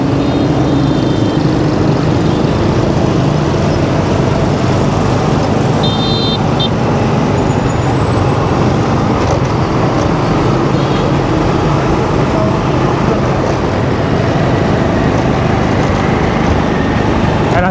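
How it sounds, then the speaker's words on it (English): Road traffic roars around a motorbike rider heading out of Hanoi's west side, a loud, dense, steady wash of engines, wind and passing vehicles with occasional horn-like tones and some talk mixed in. "just avoiding all the traffic"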